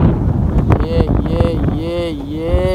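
Strong wind buffets the microphone in a steady roar during pigeon flying, with a voice talking over it and a rising tonal whine near the end.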